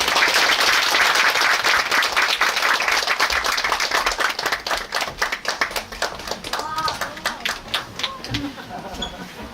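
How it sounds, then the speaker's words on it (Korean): Loud, dense applause at a humanities concert welcomes musical theatre performers and a music director to the stage. The clapping thins into scattered claps and fades as a voice begins speaking near the end. "여러분 큰 박수로 환영해 주세요"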